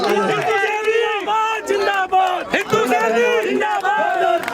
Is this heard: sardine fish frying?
no